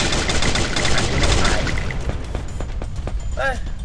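Rapid gunfire in the Free Fire battle game, a dense fusillade of close, loud shots that thins into scattered bursts, with voices talking over parts of it.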